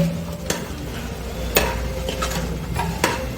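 Mango pieces are stirred into kesari bath in a pan, with soft scraping and a few sharp spoon knocks against the metal over a faint sizzle.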